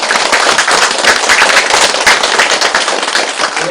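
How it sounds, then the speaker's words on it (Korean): An audience at a Buddhist lecture on the Diamond Sutra claps in a loud, dense, crackling burst that runs without a break for nearly four seconds, close by and with no voices over it. "박수!"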